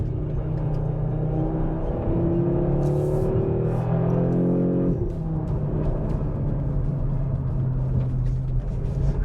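A 2022 Audi RS3 in RS Torque rear mode drives through corners on a high-speed oval track, its engine droning steadily with pitch rising and falling through each bend, heard from inside the car.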